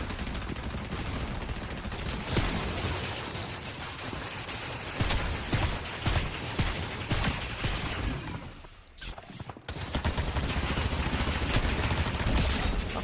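Dense, loud gunfire from a Fortnite match fills the stretch, bursts overlapping almost nonstop, with a short drop in intensity before the shooting resumes at full force.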